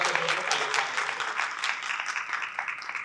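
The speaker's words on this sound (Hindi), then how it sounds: "अब एक बार जोरदार तालियां" An audience at a mushaira poetry gathering applauds, a moderately loud patter of clapping that rises and falls slightly and keeps going throughout.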